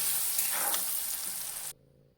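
Spices, including turmeric and salt, are stirred into meat frying in a pan for a Bengali spiced meat curry, giving a soft, steady sizzle that cuts off abruptly near the end.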